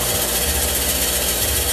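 A metal lathe turns the shaft of an antique Swan beam drill with a lathe bit, giving a loud, steady mechanical whir and hum with slight low-end shifts, close up and continuous without talk.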